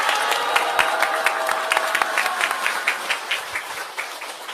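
An audience at a Korean political rally gives loud, sustained applause, with dense rapid clapping throughout and a few crowd cheers mixed in.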